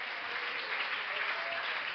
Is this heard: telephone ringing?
no